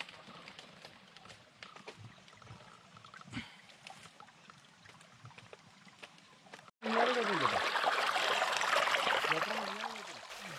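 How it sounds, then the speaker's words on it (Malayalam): A forest stream in the Thirunelli forest on a Brahmagiri trek flows toward Thirunelli temple. Quiet woodland ambience gives way abruptly to loud, steady rushing water close by for the last few seconds. "തിരുനെല്ലി ക്ഷേത്രത്തിലേക്ക് വെള്ളം ഒഴുകിപ്പോകുന്ന അരുവിയാണ്"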